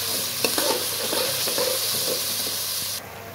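Boneless chicken sizzles steadily in a karahi, a loud continuous frying hiss with occasional stirring clinks and scrapes near the start, then the sizzle drops suddenly quieter near the end.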